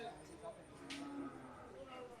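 A cow at the Gabtoli cattle market gives a brief low moo, distant and faint under the steady murmur of the crowded livestock market.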